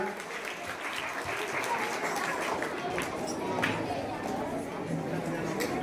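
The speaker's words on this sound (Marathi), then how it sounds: "आरसूळ मॅडम श्रेयस आणि त्यांच्या टीमसाठी एकदा जोरदार टाळ्या वाजूया" Sustained, steady applause from an audience honouring the performers at a school competition event, with crowd chatter mixed through it.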